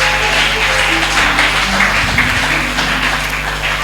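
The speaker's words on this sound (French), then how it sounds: "Applaudissons très fort pour nous." A church congregation applauds continuously, a dense, steady wash of clapping that holds at the same level throughout.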